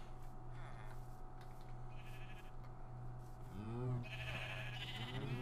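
Sheep bleating in the video game Minecraft, several short wavering bleats close by over a low steady game hum, with a louder cluster of calls toward the end.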